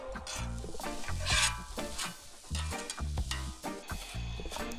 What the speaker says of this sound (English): Chopped up an onion, and that goes down with the mushrooms too.